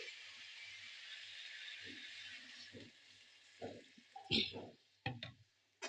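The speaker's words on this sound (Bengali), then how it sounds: "এবার আমি জল ঢেলে দিচ্ছি" Water poured into a hot pan of fried bottle gourd and potato sets off a steady, faint hissing sizzle, followed by a few soft knocks of utensils near the end.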